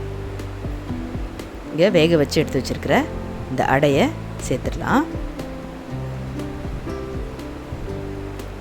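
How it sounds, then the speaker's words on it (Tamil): Milk comes to a boil for Kerala-style paal adai payasam, giving a steady, close hissing bubble under a person speaking in the middle of the stretch. "இப்போ திருப்பியும் நல்லா இந்த பால் கொஞ்சம் கொதிக்கட்டும்."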